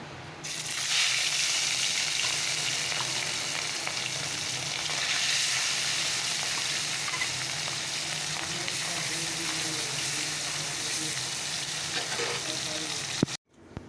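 Fish fry in hot oil in a pan, giving a loud, steady crackling sizzle that carries on without a break for about thirteen seconds, then ends with a sudden knock.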